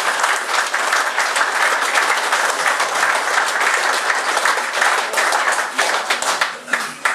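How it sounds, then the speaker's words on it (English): A crowd at an autumn angling festival on Lough Muckno gives steady, loud applause that lasts the full stretch, with dense clapping that thins slightly toward the end. "I think round needs another round of applause."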